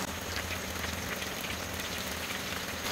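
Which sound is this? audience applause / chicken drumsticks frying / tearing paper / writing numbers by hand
chicken drumsticks frying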